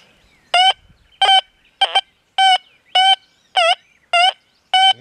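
An XP Deus 2 metal detector with its coil held over a flat iron nickel gives eight short, evenly spaced warbling beeps, each a bright harmonic tone rising and falling slightly, loud and close with silence between.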